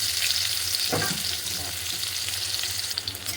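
Ridge gourd fries in oil with mustard seeds, a dry red chili and a little onion, giving a loud, continuous crackling sizzle with a stirring scrape partway through, without speech.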